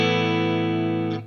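A clean Telecaster electric guitar through an amp preset with slapback: a single strummed chord ringing out bright and sustained, then cut off abruptly at the end.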